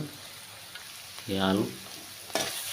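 Mashed potato paste dropped into a hot pan for aloo fry, with a sudden loud sizzling burst over a quiet background hiss, then a brief scrape as it is stirred.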